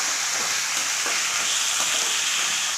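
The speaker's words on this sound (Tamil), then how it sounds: "இப்போ நம்ம உருளைக்கிழங்கு சேர்த்து வதக்கலாங்க" Potatoes and onions sauté in hot oil in a pan, giving a steady, close sizzle with soft stirring scrapes throughout and no voices.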